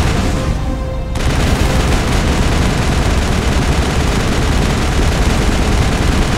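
Turrets firing in Mass Effect, rapid continuous automatic gunfire that erupts after a brief quieter moment and keeps pounding loudly for the rest of the stretch.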